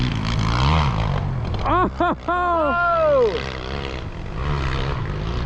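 A 450 dirt bike engine drones as the rider attempts a sandy hill climb, heard at a distance under loud excited shouts from an onlooker.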